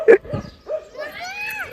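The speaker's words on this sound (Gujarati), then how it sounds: "કૂતરાઓ" Several dogs in a roaming pack outside a residential society, giving a sharp close bark followed by a drawn-out whining yelp, with a voice talking alongside.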